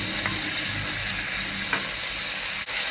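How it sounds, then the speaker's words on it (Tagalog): Chicken sautéing with garlic and onion in a pan for Filipino chicken afritada: a loud, steady close sizzle of frying throughout, with a few faint stirring scrapes. "ibuhos na natin ang ating sinirna chicken. Gisa-gisahin lang natin ng konti."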